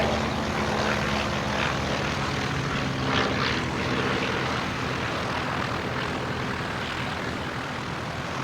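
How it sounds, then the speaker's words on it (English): A propeller-driven fixed-wing aircraft lands and taxis past at an evening air display, its steady engine drone loud and continuous throughout, swelling slightly as it passes close by with no talk. "Photograph as the aircraft lands and taxis by"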